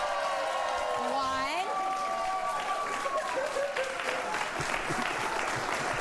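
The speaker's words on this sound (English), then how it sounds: "Audience, cheer them on." Studio audience cheering and clapping at a TV talk show, a broad wash of applause with whoops and shouting voices rising over it, sustained and fairly loud.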